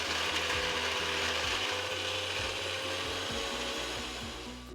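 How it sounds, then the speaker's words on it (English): An electric blender runs loud and steady throughout, whirring while it blends iced coffee with 3 to 4 ice cubes, with a low rattling churn beneath the motor and a slight fade near the end. "Add 3 to 4 ice cubes. Blend well until it becomes creamy consistency."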